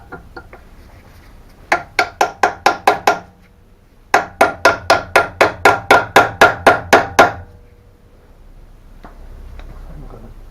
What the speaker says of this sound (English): maybe if I manage to push the spanner all the way down with a hammer